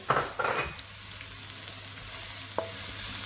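Garlic hits hot rapeseed oil in a wok for stir-fried pork with ginger and spring onion, bursting into a loud, close sizzle with a sharp initial crackle that settles into a steady hiss, with a brief clatter midway.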